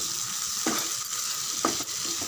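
Potatoes fry in a pan with masala and salt, sizzling loudly and steadily throughout while a utensil scrapes and stirs them a few times.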